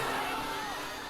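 An anime crowd cheers and celebrates a character's death in a brief burst of dense, overlapping voices that holds steady at moderate loudness.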